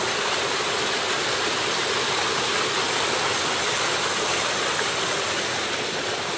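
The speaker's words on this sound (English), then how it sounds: "there's a creek here." A creek on Tamborine Mountain rushes steadily, a loud, continuous broadband wash of flowing water close by, with no voices over it.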